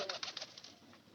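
Pigeons kept at home give a brief run of low, rhythmic coos, soft and close, fading out within about a second.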